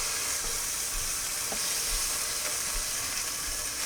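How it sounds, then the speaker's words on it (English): Pot roast meat browns in an electric pressure cooker with a continuous loud sizzle and crackle, dotted with occasional low bumps, and no voices. "And I'm just gonna brown that one side"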